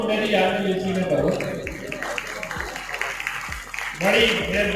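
Audience applause for a first-place winner at a children's Quranic calligraphy and handwriting competition and exhibition, a steady wash of clapping running throughout with voices and hall noise mixed in beneath it.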